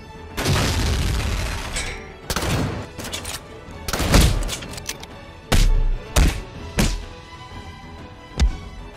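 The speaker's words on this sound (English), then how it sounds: "Was anyone hit by that explosion?" Series of loud, punchy explosion and gunfire-like impacts from a Halo stop-motion battle scene, several sharp booming hits separated by short pauses, with a final single blast near the end.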